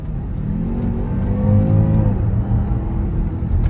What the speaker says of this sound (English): if I shift it over to sport, we're engaged in sport mode, you'll hear the sound of the car.